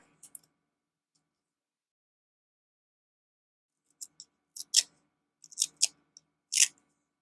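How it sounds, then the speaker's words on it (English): Scissors snip and grid washi tape gets cut and torn in a few quick, crisp bursts after a long quiet stretch, close and faint overall with no talking. "I think we're just going to cut some long pieces and rip them in half"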